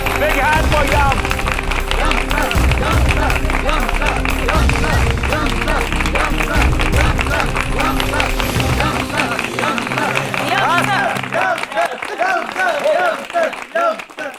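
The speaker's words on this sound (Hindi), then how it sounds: "Big hand for Yum." A crowd gives Yum a big hand: dense, loud, sustained applause with cheering and voices mixed in, which drops off sharply near the end and leaves a few claps and chatter.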